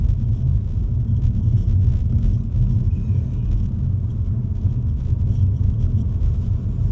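Inside an Audi A1 S Line with a 1.0-litre, 116-horsepower engine and sports suspension, a steady low road and engine rumble drones continuously while driving, with no talk.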